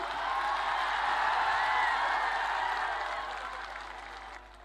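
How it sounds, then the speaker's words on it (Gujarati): Applause from a seated audience at a Gujarati stage gathering welcoming guests: a steady, dense wash of clapping that holds evenly for several seconds and then fades slightly toward the end, with no voices over it. "આપણે આવકારીએ છીએ તાળીઓના ગડગડાટની સાથે"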